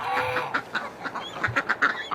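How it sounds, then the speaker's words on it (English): Ducks quacking outdoors on a frozen winter day, a run of repeated short nasal calls from several birds, fairly close and moderately loud, with no talking. "Okay, ducks, why are you coming back out?"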